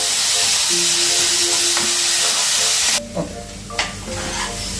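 Onions and tempering spices sautéing in a hot pan for horse gram adai batter, a steady broadband sizzle for about three seconds, then a quieter fry with a few scrape-and-stir clatters near the end.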